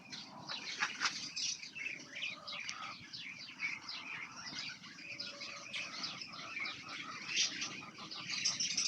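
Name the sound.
pigeons flying and landing on the loft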